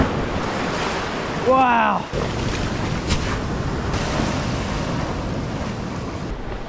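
Large ocean waves surge and crash onto a rocky shore in a steady, loud broadband roar, with wind buffeting the microphone and a brief spoken exclamation partway through.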